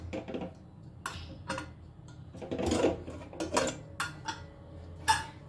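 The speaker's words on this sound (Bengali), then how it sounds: "এবারে কুকারটা আমি খুলে নিচ্ছি।" A pressure cooker lid being twisted and lifted off in a home kitchen after cooking dal with spinach gives a few sharp metallic clinks and clacks, close and moderately loud, with a brief hiss-like rustle in the middle.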